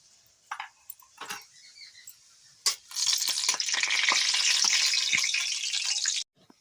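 Dried red chilies and cumin seeds hit hot oil in a kadai wok, starting with a few light clinks and stirring sounds before a loud, steady sizzle takes over for several seconds and then cuts off abruptly.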